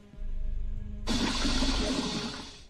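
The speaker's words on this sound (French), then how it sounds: "Bon bah la chasse d'eau ne marche toujours pas." Toilet flush in the video game Poop Killer 4: a low hum gives way to a sudden loud rush of swirling water that drains and tapers off, with no voices.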